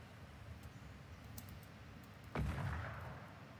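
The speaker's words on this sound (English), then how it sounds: "Wait, someone just sniped." A single sharp sniper rifle shot cracks out during a quiet hide-and-seek video game match, followed by a decaying boom, with faint clicks and game ambience before it.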